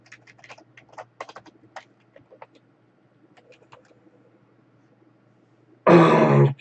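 Computer keyboard typing during a coding session: scattered clicks in quick bursts, close and fairly faint, followed by a short loud throat-clearing or grunt near the end.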